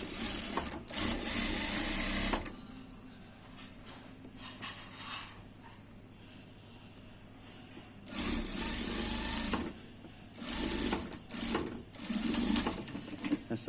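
A sewing machine stitches an elastic waistband on trousers in several bursts of rapid mechanical whirring, with quieter pauses between the runs.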